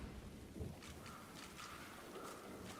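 Steady rain falls in a stormy fantasy game world from Divinity Original Sin 2, faint and continuous, with a few soft, distant thunder rumbles rolling underneath.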